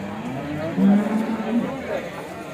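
A cow lows once at a busy village cattle market in Gorantla, the moo rising above a steady background of talking voices and crowd murmur.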